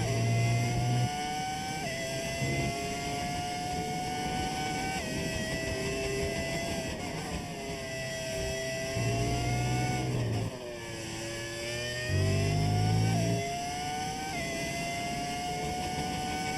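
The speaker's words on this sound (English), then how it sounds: "Love listening to the old F1 engines." An old-style F1 race car engine in the F1 25 video game screams at high revs, with its pitch rising through the gears and dropping on downshifts, while lower engine bursts come and go under it across the lap.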